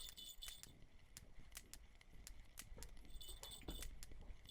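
Faint, rapid clicking from a worn fishing reel in Russian Fishing 4, a steady ticking series of light metallic clicks alone against quiet background.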